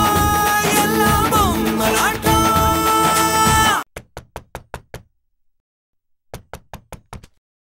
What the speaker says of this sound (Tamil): யாருக்காவது கதவு தட்டுற சத்தம் கேக்குதா?